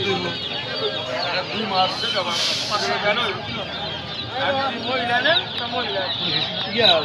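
Chickens cluck and squawk continuously around a poultry market, with a person talking over the birds throughout.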